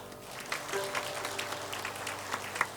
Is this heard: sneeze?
no